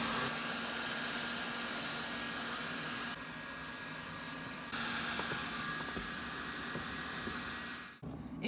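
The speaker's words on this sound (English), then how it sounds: "you can now come back in with your heat gun, heat the WoodUbend moulding up and really press it into the surface" A heat gun blows on WoodUbend moulding with a steady, loud whooshing roar of hot air that dips briefly midway and cuts off just before the end.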